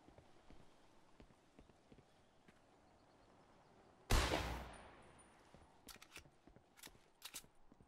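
A single loud gunshot from the video game Fortnite cracks out midway and decays quickly, followed by faint clicks and light footsteps against a quiet background.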